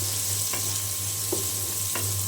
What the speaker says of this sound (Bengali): তেলে এখন দিয়ে দেবো আমি পেঁয়াজ, রসুন আর কাঁচামরিচ শাক ভাজি করার জন্য